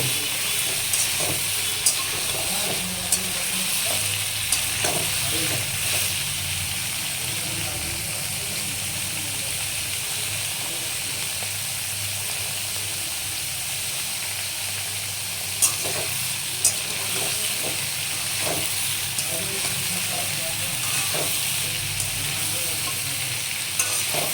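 Papaya curry with spice paste sautéing in a pan, a steady broadband sizzle with intermittent scrapes and clinks of stirring throughout, close and continuous with no talking.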